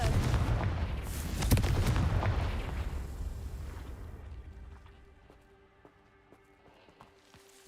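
Spell blasts from the Confringo fire curse in Hogwarts Legacy erupt in a heavy, booming rumble with a sharp crack near the start, then fade into a dying roar and scattered light clicks and ticks.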